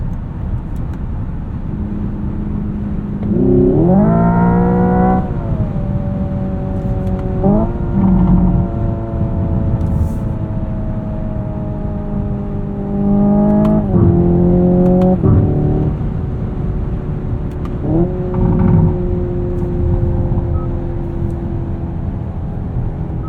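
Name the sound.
simulated engine sound of Hyundai Ioniq 5N electric car accelerating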